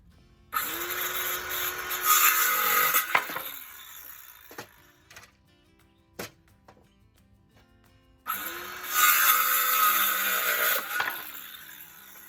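A pallet wood board is cut for an Adirondack chair with a power saw, in two loud bursts of a few seconds each separated by quieter handling clatter, with no talking.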